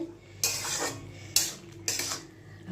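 A lid clatters onto a pot of Bengali shukto made with bottle gourd, papaya and bitter gourd, three bright metallic clanks with short ringing tails over a faint background hum, no one speaking.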